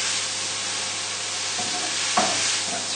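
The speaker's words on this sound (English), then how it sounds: "And we'll just give our leeks a little stir." Leeks cooking in butter and milk get a brief stir in a pan, giving a steady low sizzle and one short scrape of a utensil near the end. No one speaks.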